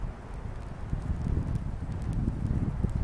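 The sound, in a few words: wind blowing outdoors during fire test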